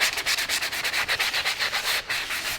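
Hand sanding with 300 grit sandpaper across the pillar of a 2021 Honda Civic Type R under repair: quick, rhythmic back-and-forth rasping strokes, about seven per second, close up and without talk.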